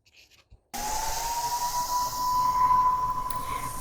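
A paint sprayer hisses in a steady loud rush with the airflow turned up high while spraying furniture paint, starting abruptly after a brief quiet moment and holding a constant whining tone.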